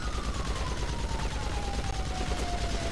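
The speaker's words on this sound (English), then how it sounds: "he's got some type of light machine gun because he's just able to keep shots going off" Sustained light machine gun fire in a video game rattles continuously in a rapid stream, dense and loud, with a faint descending tone running underneath.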